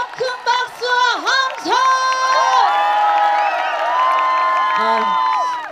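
A large crowd at a trot concert for Jindo County Day in Korea cheers and whoops loudly, voices rising and holding in sustained shouts; clapping is hard to pick out under the cheering.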